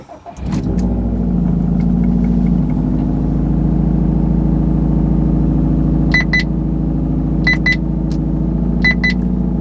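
A car with a bad O2 sensor starts with a brief crank, then settles into a steady, loud idle, with a few short electronic beeps chirping over the hum.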